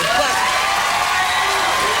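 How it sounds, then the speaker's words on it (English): A studio audience on The Rosie O'Donnell Show gives dense, steady applause with a few whoops mixed in. The sound is close and continuous, with no clear peaks or swells. "That was very unenthusiastic applause"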